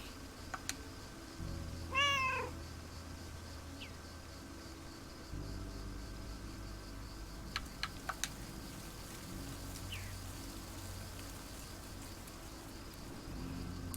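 While being petted in the video game Lake, a cat gives one clear meow early on, followed by faint chirps and ticks over a long stretch of quiet ambience with insect-like hum.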